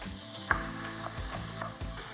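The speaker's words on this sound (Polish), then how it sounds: "i będę go smażyć przez jakieś 5-7 minut" Steady sizzling of chicken frying in a hot pan, with a few soft stirring knocks; no voices.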